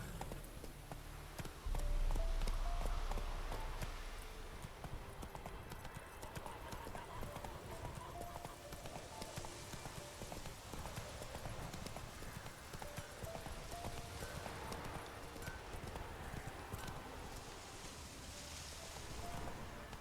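A horse in The Witcher 3 gallops with rhythmic clip-clop hoofbeats, a brief snort or whinny near the start, and a wash of ambient water and wind behind the steady hooves.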